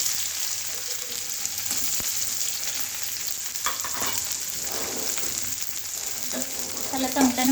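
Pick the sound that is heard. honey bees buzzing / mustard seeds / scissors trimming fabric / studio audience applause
mustard seeds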